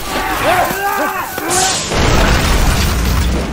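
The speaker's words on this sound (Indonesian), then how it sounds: "Melihat kekuatan ledakan bom itu" A loud explosive boom from a homemade ball bomb bursts in partway through, followed by a sustained roaring rumble; tonal voice-like sounds precede it.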